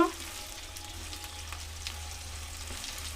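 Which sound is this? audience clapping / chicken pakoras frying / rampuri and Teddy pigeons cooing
chicken pakoras frying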